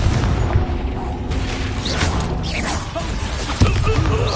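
A Confringo fire spell blasts in the Hogwarts Legacy video game, a loud boom with crackling debris over continuous battle noise, with a sharp impact near the end.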